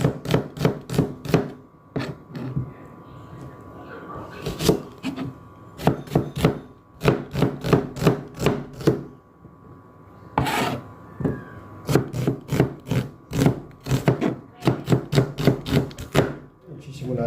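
A knife chops onion on a board in quick, even bursts of crisp thuds, close and loud, separated by short pauses between runs.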